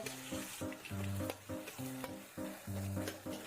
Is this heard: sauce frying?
yes